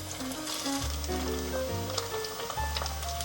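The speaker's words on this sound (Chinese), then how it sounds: "把香菇放进来炸。" Shiitake mushrooms deep frying in a generous amount of hot oil, a steady broadband sizzle and crackle running the whole time beneath sustained musical tones.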